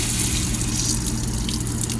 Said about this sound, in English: turn the water on, Bailey